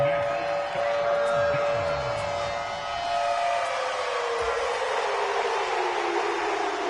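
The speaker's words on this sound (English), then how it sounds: "A big play here as the crowd noise rises." Stadium crowd roar from an American football video game featuring the Cowboys, a dense, loud, continuous wash that swells steadily through a late-game play, with a whistle-like tone running underneath.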